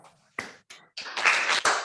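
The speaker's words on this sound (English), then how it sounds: "let's once again applaud the speaker" Applause for a conference speaker: a few scattered claps at first, then a short, fuller burst of clapping from a small audience that quickly fades.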